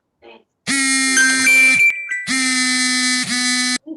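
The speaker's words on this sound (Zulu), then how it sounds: "Ifoni kabani ke leyo?" A loud electronic ringing tone plays in two sustained bursts separated by a short gap, with brief faint voices before and after.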